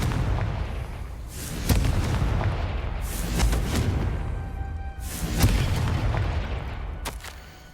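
Confringo spell explosions in the game Hogwarts Legacy boom out as repeated loud, heavy blasts with rumbling decays, several in quick succession over a dense, noisy game background.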